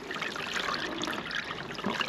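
Water squeezed from a soaked window cleaning applicator into a bucket, a steady trickling and splashing that runs for about two seconds without pause.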